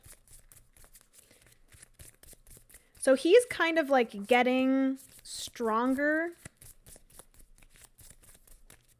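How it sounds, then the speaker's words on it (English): Paper playing cards from a deck-building card game are shuffled in a steady run of soft rapid riffling and flicking that continues under someone talking. "I'm going to shuffle these up"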